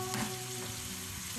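Ground pork and pepper fry in a pan with a steady, close sizzle, and a utensil stirs briefly through the food near the start.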